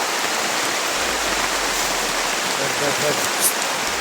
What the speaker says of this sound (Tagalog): Ito pala na ulan na pala.